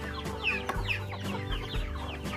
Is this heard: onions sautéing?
no